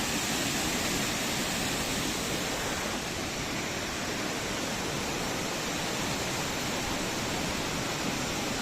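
Changey Waterfall at Kolakham, Kalimpong, in the dry winter season, pours steadily with a dense, unbroken roar of falling water, close and constant throughout with no voices.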